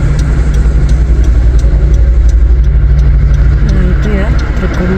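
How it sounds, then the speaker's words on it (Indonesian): A yellow truck's engine strains under load while towing, a loud, steady low rumble that holds throughout, with a faint voice briefly near the end. "Nah, truk kuning ini lagi narik guys."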